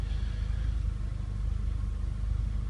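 A VW Golf mk4 engine idles steadily during a secondary air injection diagnostic, a close, even, continuous mid-pitched rumble with no revving and no talk.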